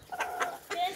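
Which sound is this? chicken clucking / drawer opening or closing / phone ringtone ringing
chicken clucking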